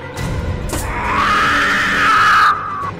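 A woman screams in the survival horror game Remothered: Tormented Fathers, a loud, sustained high-pitched cry lasting about two seconds before cutting off, preceded by a short grunt.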